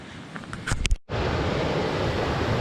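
A few brief bumps and knocks, then a cut to the constant rushing roar of a waterfall on a Belledonne mountain trail, continuing evenly to the end.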